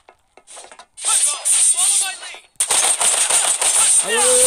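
Rapid machine-gun fire in the video game FF7 The First Soldier, loud and close, coming in sustained bursts after a brief opening pause with a short break midway, game sound effects layered over it.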